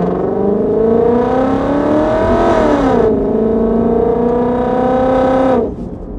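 BMW E30 fitted with a V8 engine revs loudly and close, rising, dropping sharply, then holding high before cutting off near the end, with no talk.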